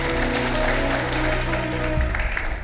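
Loud applause from a reality-show studio audience, heard as a continuous wash of clapping under a steady bed of music.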